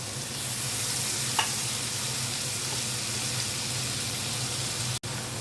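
Spices with turmeric powder and salt sizzle steadily in a hot pan while a mustard-seed hilsa curry is being cooked. The frying hiss is continuous and even, with one faint clink and a brief cut near the end.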